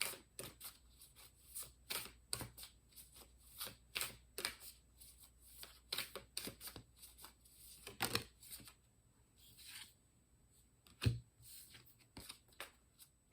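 Oracle cards from a Work Your Light deck being shuffled by hand, a quick run of crisp riffling flutters and soft slaps repeating close up, with no talking over them.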